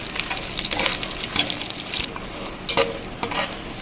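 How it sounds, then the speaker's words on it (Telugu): Dried red chillies fry in a shallow layer of oil over a low flame for a curry-leaf pickle, giving a steady soft sizzle with faint crackles and a few louder pops, close up and with no voices. "ఇది కూడా సన్న సెక మీద వేసుకుందాం ఎండుమిర్చి"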